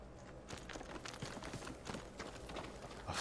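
Horse hooves clip-clop in Ghost of Tsushima as a farm horse moves about, a steady run of close, crisp hoofbeats over a busy game ambience.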